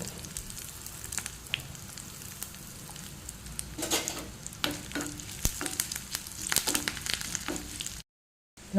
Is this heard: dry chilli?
yes